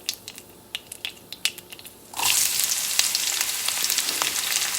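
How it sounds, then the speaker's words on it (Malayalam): Mustard seeds pop in hot oil for an egg masala: sparse, sharp crackles at first, then a sudden loud, dense sizzle of frying with continuous popping close by. "കടുക് പൊട്ടി തുടങ്ങി."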